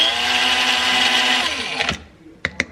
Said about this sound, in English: I'm grinding up the graham crackers in our little coffee grinder